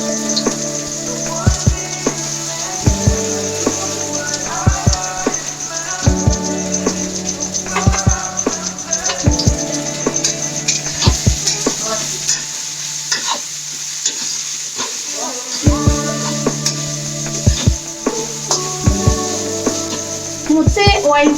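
Poha with turmeric and salt frying in plenty of oil in a kadhai, loud continuous sizzling with repeated rhythmic spoon stirring against the pan and a steady high whine underneath.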